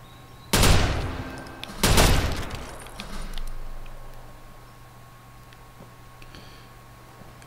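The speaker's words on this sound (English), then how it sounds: "Pretty good sniper, really, except for it's so loud." Two loud sniper rifle shots in the Watch Dogs video game, about a second apart, each followed by a short echoing decay and then a quieter rumble, with low background game ambience throughout.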